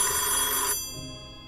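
A telephone bell ringing in a horror video game, one bright sustained ring that cuts off abruptly and leaves a faint fading tail, with no talk over it.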